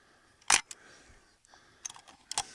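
An old film camera's shutter releases with a sharp, close mechanical click, followed by a few softer clicks and handling sounds in a quiet room; no talking.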